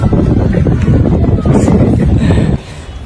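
Strong wind buffets the microphone outdoors, a loud, rumbling, gusty roar throughout that drops off abruptly near the end; no clear speech.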